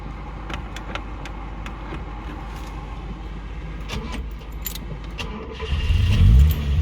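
Already-warm 1977 Mazda 818 Deluxe Wagon 1600 being started: a few faint clicks and light rattles, then the engine cranks and catches with a louder low rumble near the end, close up.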